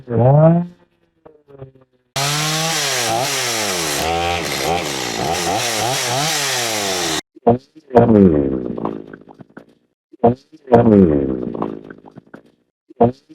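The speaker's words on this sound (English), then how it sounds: "as I'm sawing up that log" A chainsaw cuts through a log outdoors in a single loud, continuous burst of about five seconds, its engine pitch wavering as it bites. Someone speaks before and after the cut.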